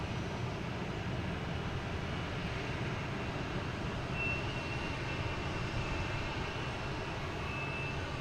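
An airliner takes off and retracts its landing gear at Boston Logan Airport, heard as a faint, distant steady jet rumble with a thin whine, continuous throughout.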